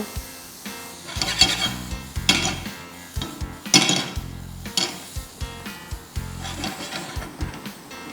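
Garlic, onion and red, green and yellow bell peppers are stir-fried in a pan, with a soft sizzle under repeated sharp clanks and scrapes of a utensil against the metal at an irregular rhythm, close up.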